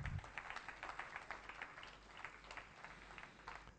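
Congregation applauding during a French-language church sermon, a faint, even rattle of many hands clapping at a distance for several seconds.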